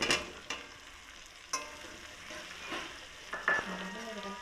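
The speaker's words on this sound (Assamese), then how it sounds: "এইখিনি এনেকৈ অলপ সময় লৰাই ভাজি থাকিম।" Pieces of chicken fry in a pan for an Assamese curry, a soft steady sizzle broken by several scraping stirs of a spoon at irregular intervals.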